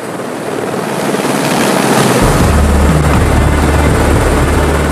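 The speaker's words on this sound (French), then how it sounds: "L'hélicoptère comme outil de jardinage." A helicopter used for gardening work on Lord Howe Island roars loudly and close, its steady rotor and engine noise building in the first seconds and then holding at full strength.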